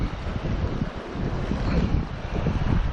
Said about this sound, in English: As you can tell, it's windy,